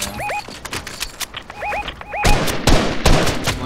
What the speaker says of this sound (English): We're getting sniped at from there.